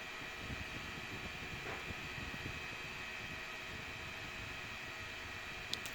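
A CERIAL wearable fan running on its high speed setting gives a steady, fairly quiet broadband whir, close and constant throughout with no talk.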